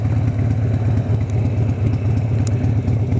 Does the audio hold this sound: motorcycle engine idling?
yes